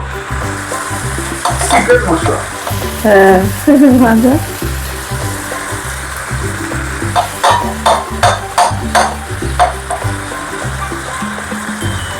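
Spiced chicken pulao mixture with salt and masala stirred as it fries in a pan, a continuous close sizzle with utensil scrapes, while someone speaks briefly over it.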